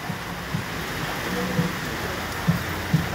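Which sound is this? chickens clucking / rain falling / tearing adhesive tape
rain falling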